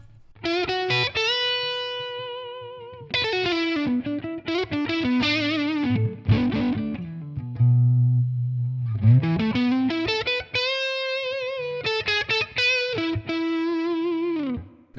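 Electric guitar on the neck pickup through a crunchy, lightly distorted amp tone with room reverb, playing a melodic lead line with sustained bent notes and a low held note in the middle.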